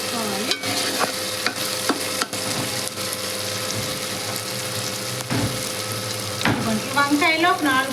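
Brinjal curry with dry salted fish fries in a pan while being stirred, with loud close scraping and clanking strokes over a constant sizzle and hum; brief voices rise faintly near the end.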